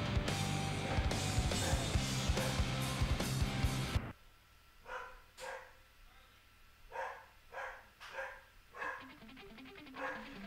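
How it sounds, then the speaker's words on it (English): A dog barks repeatedly in short bursts in the background of a home, loud and dense at first, then sparser, distinct barks over a quiet backdrop. "And my dog is barking now."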